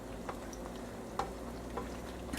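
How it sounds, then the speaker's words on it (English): Cooked macaroni is added to a pot and stirred, a quiet sizzling bed broken by a few sharp spoon clacks against the pot. "adding my macaroni to the pot"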